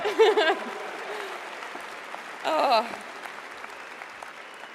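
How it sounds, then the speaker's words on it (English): Audience applause at a university commencement ceremony, a steady wash of clapping throughout, with a speaker's voice over the start and again briefly midway. "My mother deserves a round of applause for all those 8 siblings."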